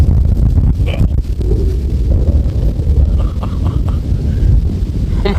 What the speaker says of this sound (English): was that wind.